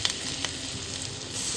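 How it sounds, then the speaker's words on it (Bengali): Chopped garlic hits melted butter in a pan with a brief, steady, close sizzle and no voices. "এখানে তো কড়াইতে দিয়ে দিলাম বাটার, এইবার এর মধ্যে এই যে কুচি করে রাখার রসুনগুলো দিয়ে দেবো।"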